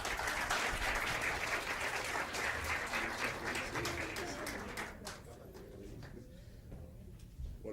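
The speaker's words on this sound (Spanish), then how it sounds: "yo creo que más que merecido ese aplauso a la embajadora" Audience applause at the closing of a human rights seminar, honoring the ambassador: dense, sustained clapping that fills the room, gradually thinning and fading toward the end.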